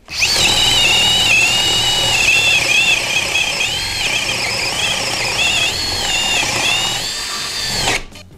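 A Festool TXS 18 cordless drill bores through a thick wooden beam with a 32 mm spade bit in second gear, a loud, close, sustained whirring grind with squealing overtones for about eight seconds before it stops.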